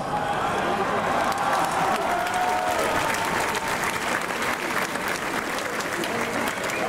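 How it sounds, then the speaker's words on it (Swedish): A concert crowd at an In Flames show at Liseberg in Gothenburg, Sweden, applauds steadily and loudly, sustained clapping with some cheering filling the whole stretch without a break. "Stor applåd till Tanner Wayne."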